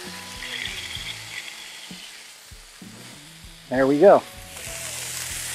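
Thin smash burger patties sizzle steadily on a hot griddle, a continuous frying hiss under scraping and clanking spatula strokes, with a brief spoken remark near the end.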